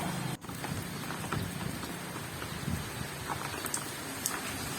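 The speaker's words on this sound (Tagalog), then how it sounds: "Grabe naman ng ulan, ayaw ng huminto." Steady, dense rain hissing down without pause, a continuous wash of drops with a few brief louder spatters and no voices.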